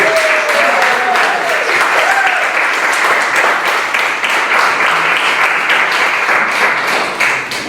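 A crowd at an event applauds musicians being called to the stage, with dense, loud, continuous clapping throughout and a few voices calling out over it.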